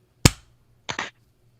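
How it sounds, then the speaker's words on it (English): A single sharp clap for recording sync rings out, followed half a second later by a quick double slap, all in a quiet room. "Clap, sync."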